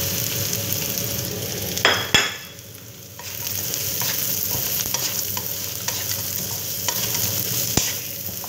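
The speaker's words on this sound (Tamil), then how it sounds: "இப்போ வந்து நான் வந்து பொட்டேட்டோஸ் வந்து ஆட் பண்ண போகிறேன்" Potatoes tipped into onions softening in olive oil, then stirred: a steady close sizzle with scraping spoon strokes, a brief clatter as the potatoes drop in, then continuous frying with occasional knocks against the pan.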